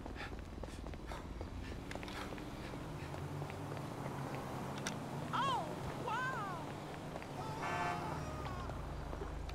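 A short, flat car-horn honk in the video game GTA V sounds late in the clip, mixed into steady in-game traffic and street noise while people talk throughout.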